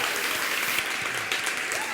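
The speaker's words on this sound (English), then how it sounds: "So join me with a warm round of applause" A studio audience breaks into steady, sustained applause welcoming Shakira onstage at an Oral-B interview event, with dense clapping throughout and faint voices mixed in.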